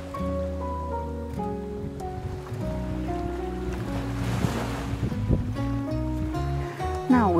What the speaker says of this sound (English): It's a beautiful sandy beach. Come on, Belle. Let's go and see the sea.